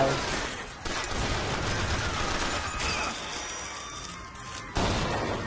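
Gunfire in the video game Bioshock Infinite, a dense fusillade of shots and booms that fills the whole stretch with brief drops between bursts, loud and close.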